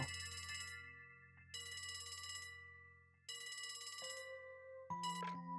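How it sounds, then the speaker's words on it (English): An in-game telephone in Trails from Zero rings in steady electronic trill bursts, three long rings with short pauses between, clear and alone with no talk. "A phone call?"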